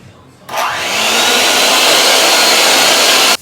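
An electric mixer beats pumpkin cookie dough with cinnamon and other spices. A steady, loud whirring motor starts abruptly, holds at an even pitch for about three seconds, then cuts off sharply.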